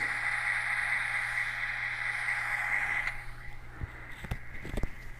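A model train locomotive's sound decoder: a small electric motor hums steadily alongside a high whine, then fades at about three seconds, followed by a few sharp clicks and clunks.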